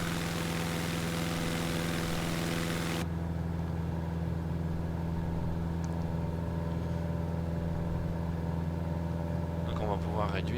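The engine of a Bücker Bü 131 biplane in Microsoft Flight Simulator drones at a steady, continuous pitch throughout, with a slight change in tone partway through.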